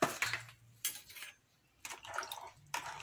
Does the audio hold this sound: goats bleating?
no